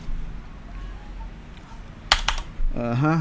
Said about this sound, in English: Yeah, because I'm using a half keyboard right now.